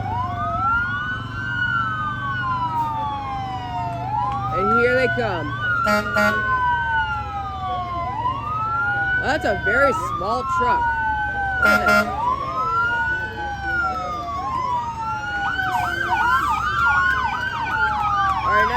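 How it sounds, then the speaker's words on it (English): Emergency vehicles in an Independence Day parade in Blue Island wail with loud, overlapping sirens that rise and fall repeatedly, with short horn-like blasts mixed in and someone talking over the din. "Look at how crazy their sirens are going."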